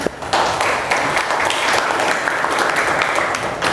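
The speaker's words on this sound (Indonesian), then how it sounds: "Tepuk tangan untuk video kita hari ini" Loud, close applause rings out in a dense, continuous burst of clapping that runs the full few seconds with no talking.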